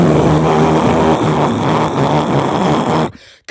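Steady, loud droning engine rumble fills the space continuously, like a plane cabin in flight, then cuts off abruptly near the end.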